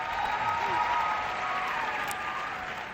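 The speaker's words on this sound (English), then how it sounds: "a round of applause for him" An audience at an African entrepreneurship business panel claps for a guest, a soft, steady patter of applause that holds evenly across the moment, fairly distant and with no one speaking over it.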